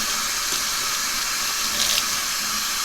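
Tap water runs steadily over a tie-dyed tee being rinsed of excess dye, a continuous close hiss and splash with small shifts as the fabric moves under the stream, no voices.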